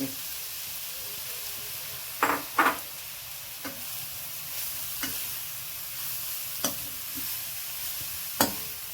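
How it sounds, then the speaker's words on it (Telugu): Carrots fry in ghee for carrot halwa. A soft sizzle hisses steadily while a spoon scrapes and clinks against the pan in sharp, irregular strokes, the louder ones clustered early on. "ఇప్పుడు క్యారెట్ కూడా వేసి వేపుకుందాం"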